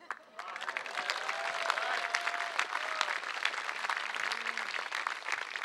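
A large outdoor crowd at a groundbreaking ceremony for St. Anthony's Dining Room and senior housing claps and cheers steadily, the applause dense and somewhat distant, with faint voices rising through it.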